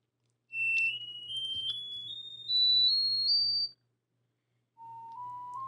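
An iPhone speaker diagnostic test plays through the top stereo speaker: faint, thin rising tones that step upward over a low hum, break off into silence, then return lower, with no speech.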